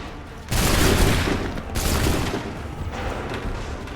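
A rifle volley from a line of soldiers in Assassin's Creed III erupts in a loud, crackling fusillade. A second ragged burst follows, then scattered shots trail off, near and dense.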